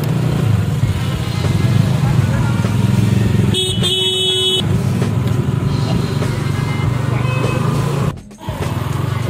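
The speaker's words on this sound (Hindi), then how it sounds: "ट्रैफिक जाम है पूरा, गाड़ियों की लाइन लगी हुई है।" A traffic jam near Lahiri Baba temple in Bandel, with motorcycle and car engines idling in a dense rumble and a loud, sustained horn blast in the middle, plus a brief harsh burst near the end.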